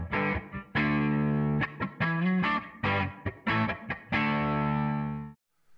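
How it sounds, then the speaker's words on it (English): Distorted electric guitar played through an Egnater Tweaker tube amp head, with strummed chords and short riffs in bursts that ring out and then stop near the end, loud and up close with no talking. "grab my guitar, and run through a few of the different tones that you can get with this amp"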